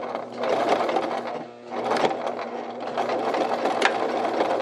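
A sewing machine runs steadily as it stitches a check-patterned shirt-style coat, a close, busy mechanical whir with a short pause partway through, no talking.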